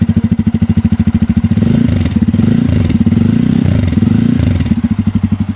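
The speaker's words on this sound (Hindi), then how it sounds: "अब आपको N250 और F250 के एग्जॉस्ट नोट भी सुना देता हूँ।" Bajaj Pulsar N250 and F250 motorcycles play their deep, bassy exhaust note. A close, loud single-cylinder idle pulses rhythmically, then two smooth throttle blips rise and settle back to idle.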